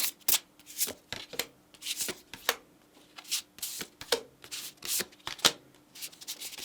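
Tarot cards being shuffled by hand, a quick run of crisp papery riffles and slaps that come in uneven bursts, close and fairly quiet, with no talking.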